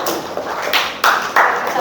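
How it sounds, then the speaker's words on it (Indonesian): A classroom applauds a student named Syifa with a short run of light claps and taps that rises in a few bursts. "Tepuk tangan dulu untuk Syifa"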